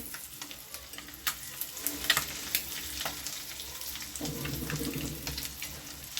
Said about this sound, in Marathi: आता ही अंडी दोन्ही ना अशी फ्राय करून घ्यायची